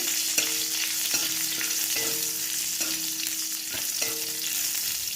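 Four slit green chillies lightly fry in hot oil, a close steady sizzle broken by spatula scrapes at roughly one-second intervals while being stirred.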